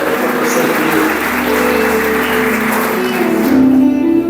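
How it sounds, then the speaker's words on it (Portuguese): Church congregation at a celebration service applauding, a dense, loud wash of clapping that continues steadily throughout with a sustained tone rising near the end. "Aplaudam todos ao Senhor Deus"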